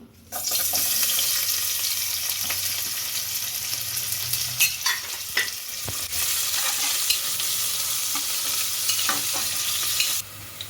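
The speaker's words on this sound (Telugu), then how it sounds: "ఇప్పుడు హీట్ అయిందండి ఆయిల్ ఇప్పుడు ఆనియన్స్ యాడ్ చేసుకుందాము" Sliced onions sizzle and crackle steadily in hot oil in a pan, a loud continuous frying hiss across the whole stretch with a few stirring knocks, no voices.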